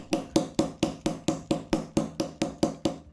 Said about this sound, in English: And then we're going to pick up our hammer because we're going to harden it